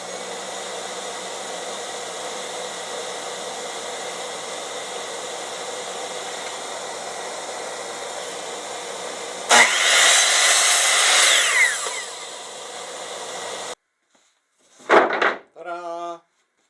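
A power saw cuts through an 8-foot 1x3 board, a loud burst of roughly two seconds rising over steady background hum, followed by silence and a couple of short clattering knocks as the pieces are handled.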